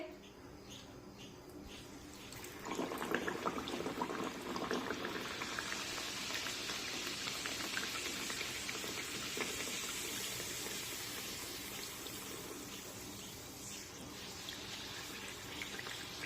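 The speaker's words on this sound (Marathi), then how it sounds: "चला तर आता अशाच पद्धतीने राहिलेल्या सर्व पुऱ्या तळून घेते." Sweet wheat-flour puris deep-frying in hot oil, a steady bubbling hiss that swells up after a few seconds and continues evenly, close and fairly loud.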